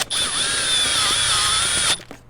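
A power drill runs steadily for about two seconds, driving a self-tapping screw into a Jeep Gladiator bed rail during a soft topper install, with a high whine that holds, then cuts off cleanly.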